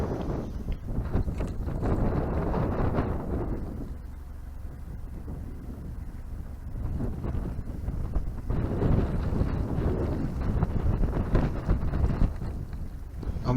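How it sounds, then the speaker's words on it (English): Steady wind buffets the microphone around a narrowboat drifting sideways toward a mooring, a continuous low roar that swells and eases in gusts throughout. "wind is actually helping me out. It's blowing me in sideways right into the little mooring"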